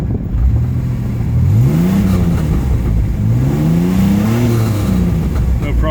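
The engine of a 1987 Pontiac Fiero GT with a misfire problem revs slowly under gentle throttle, its loud tone rising and falling in two smooth sweeps over a steady close drone.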